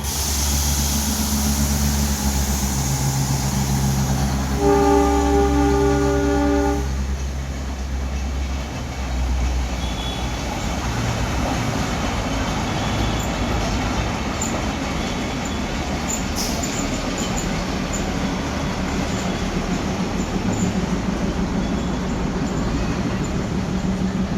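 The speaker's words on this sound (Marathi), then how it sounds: "इकडनं ही मिनी ट्रेन आलेली आहे," A Matheran mini toy train on the hill-station line in monsoon, a continuous low rumble of the small engine and rolling wagons nearby with a brief horn-like tone, steady throughout.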